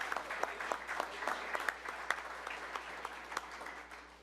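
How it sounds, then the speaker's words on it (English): Applause breaks out at a city commission meeting, a moderate round of clapping from people in the chamber with individual claps audible, fading gradually toward the end. "Give them a round of applause."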